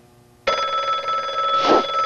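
A telephone bell starts ringing abruptly and keeps going, a loud, close, continuous metallic ring that swells slightly toward the end, after a quiet moment.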